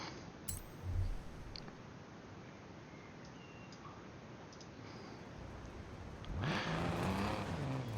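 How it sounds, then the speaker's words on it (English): A Ford Escort RS 1600 engine in Forza Horizon 4 drones steadily at a distance, with a louder revving surge and faint tire noise near the end. "That's the Ford Escort RS 1600."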